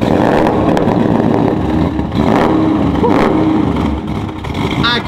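A car engine revs hard just after a cold start, its exhaust roaring loud and steady throughout, with brief surges and dips in level and a faint voice near the end.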